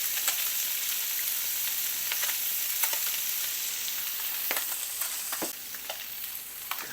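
Fish fillets sizzle steadily in a hot pan on a stove for fish tacos, a constant close crackle broken by occasional sharper pops and spatters, with no talking.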